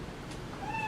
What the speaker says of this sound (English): You know 1 minute's up when you hear the sound of a kitty.